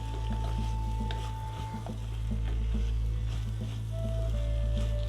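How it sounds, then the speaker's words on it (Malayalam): A spoon stirs and mixes Kerala-style egg stew ingredients in a pan, steady scraping and soft sizzling over a constant low kitchen hum, with faint tonal beeps and no talk. "ഇതെല്ലാം കൂടെ നമുക്കൊന്ന് ഇതിൻ്റെ കൂട്ടത്തിലൊന്ന് മിക്സ് ചെയ്തെടുക്കാം"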